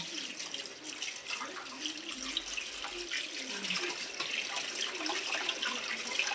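Tap water runs continuously into a sink with soft splashing and sloshing as fish is rinsed under the flow.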